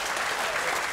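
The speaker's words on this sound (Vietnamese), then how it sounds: "hãy cùng dành một tràng pháo tay để động viên các bạn thí sinh trước khi bước vào phần thi mang tính chất quyết định" Dense studio audience applause for contestants on a Vietnamese game show, a brief continuous burst of clapping.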